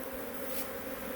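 Honey bee swarm in a bee yard, a steady dense buzzing hum that holds level and fairly faint through the whole short moment, with no voices.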